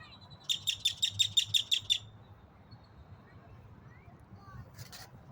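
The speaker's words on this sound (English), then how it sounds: "the birds are making all the noise" Wild bird chirping near boats outdoors: a quick run of about eight bright, high tweets in the first two seconds, then a brief faint chirp near the end, over low background rumble and murmur.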